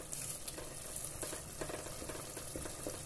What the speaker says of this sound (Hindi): जो मेन इंग्रेडिएंट है हमारा लहसुन अदरक का पेस्ट, वो भी हम इसमें डाल देंगे और इसको अच्छी तरह से भूनेंगे।